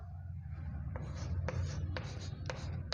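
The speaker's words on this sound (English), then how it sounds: "That is the given number we are going to write first." Chalk or marker writing a number on a classroom board, with a few short rapid strokes and taps over a low background hum, close and moderately quiet.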